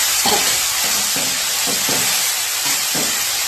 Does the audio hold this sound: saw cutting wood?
no